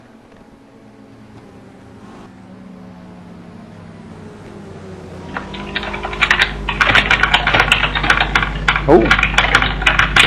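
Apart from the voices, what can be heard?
someone typing frantically on a computer keyboard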